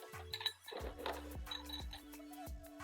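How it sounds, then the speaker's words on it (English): Ice cubes clink and rattle against the sides of a chilled rocks glass as a Sazerac is stirred, a series of bright, close taps and rings over a couple of seconds. "you can just add some ice as you stir"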